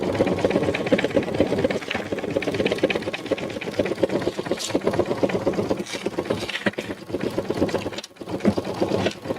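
Home embroidery machine stitching a finishing line along one edge of a gift card holder, a continuous close mechanical whir with rapid rhythmic needle chatter throughout, no talk.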